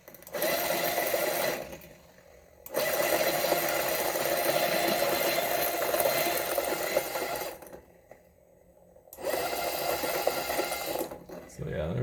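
Monolith Titan flat burr coffee grinder spinning on turbo, a loud whining motor hum that runs in long stretches broken by short pauses, close up with no talking.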